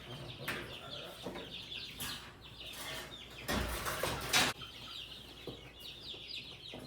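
A hen clucks repeatedly at close range, with short squawks and rustling flurries of movement in between.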